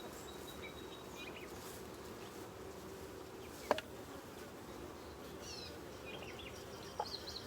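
Honey bees hum around an open hive during an inspection, a soft, steady drone of many insects with a couple of brief clicks and knocks, no voices.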